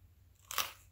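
A single loud, crisp crunch from biting into a ham sandwich packed with Flamin' Hot chips, rising sharply after a quiet moment and fading quickly.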